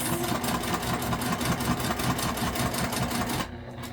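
A sewing machine back stitches along a tote bag, a fast, even mechanical whir with rapid regular needle ticks running close and loud for several seconds, then stopping abruptly.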